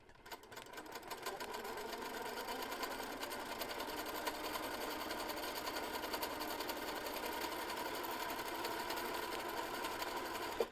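A sewing machine stitches a quilt with a zigzag stitch line, running as a continuous, even mechanical whir and rattle at close range, with no talking.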